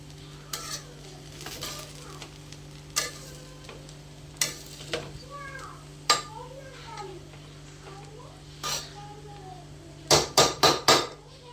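Chicken fry being stirred and flipped in a pan for chicken fry with bagara rice, soft sizzling under scattered clinks and scrapes, ending in a quick run of four sharp utensil knocks against the pan; faint voices in the background.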